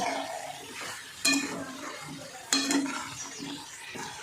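Spatula scrapes and clanks against a pan of sautéing potatoes and brinjal over a steady sizzle, with two sharp metallic strikes standing out amid the stirring.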